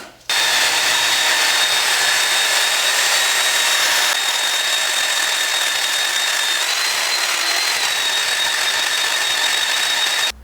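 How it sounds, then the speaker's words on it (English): A belt sander cleaning the inside edge of cedar inwales on a cedar strip canoe, a loud, steady, high whine running close and continuous for about ten seconds before cutting off. "I'm going to just hit them with the belt sander to clean up the inside edge"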